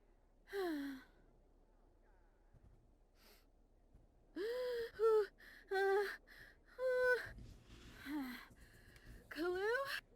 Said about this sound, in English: let's go ahead and get some breathing exercises in here